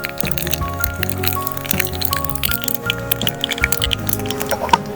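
Mustard seeds and cumin seeds crackle and pop in hot oil, with dense irregular snapping and sizzling throughout, loud and close.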